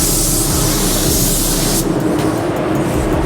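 A Harbor Freight Black Widow spray gun sprays sealer on a car in a loud, continuous hissing burst that cuts off partway through, leaving a quieter rushing background, close and alone without talk.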